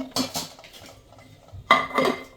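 A pan being handled for tempering white chickpeas, with clanks of metal cookware and utensils in two separate bursts and quiet gaps between them.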